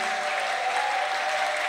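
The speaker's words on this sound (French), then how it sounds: "Applaudissez très fort." Applause from a congregation at a religious gathering broadcast on radio, a dense, steady clapping wash heard alone for a short stretch, with a faint sustained tone running underneath.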